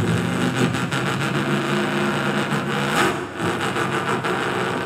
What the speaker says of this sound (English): I want you to feel the rumble of the V8